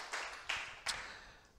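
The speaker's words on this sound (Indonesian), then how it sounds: "Berikan tepuk tangan buat Tuhan Yesus" Congregation applauding in a church service: three short bursts of clapping, moderately faint and somewhat distant, fading out between them, with no talk over it.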